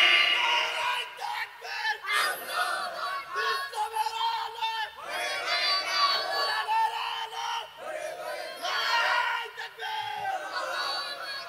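A large congregation at a Bangla Islamic sermon roars the takbir chant in unison, loud and close, in repeated swelling bursts with brief dips between, voices overlapping into a dense crowd shout.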